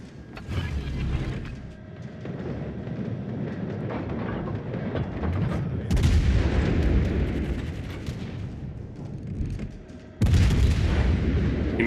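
Naval gunfire from warships in the World of Warships Legends video game, with a dense rumble of heavy booms and salvos layered over a continuous battle din and a sharp new blast near the end.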